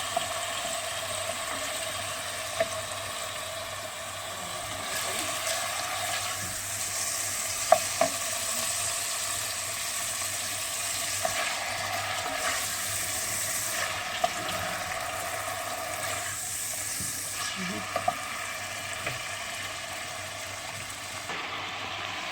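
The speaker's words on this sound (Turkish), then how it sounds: "bir müddet sonra kavurduktan sonra soğan atıyoruz" A long, steady sizzle of julienned onions frying with diced meat in a pan, with occasional scraping and clicking as it is stirred.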